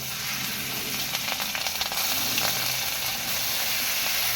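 Nigella seeds and chillies sizzle in hot oil for a Bengali pabda fish curry, a steady dense hiss with brief crackles throughout, close and fairly loud.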